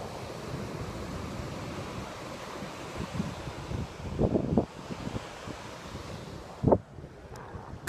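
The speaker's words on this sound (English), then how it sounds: "And talking about oceans, here is, well, part of an ocean anyway." Ocean waves wash along the Great Ocean Road coastline under gusting wind that buffets the microphone, a continuous roar with a few sharper rushes and thumps, and nobody speaking.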